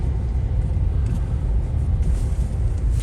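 A car drives through wet evening city streets in Kyiv after melted snow, heard from inside as a constant low road rumble and engine drone with tire hiss, with no talking.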